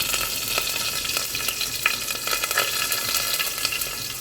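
Crushed garlic-cumin paste and curry leaves hit hot oil in a pan, a loud continuous sizzle with crackling pops and the scrape of stirring, heard up close with no talking.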